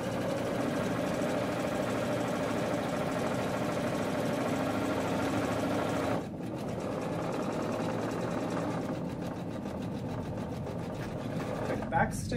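A sewing machine stitches a 5/8 inch seam in fabric, a steady mid-pitched motor whir running continuously at close range with a brief shift partway through and a short backstitch near the end.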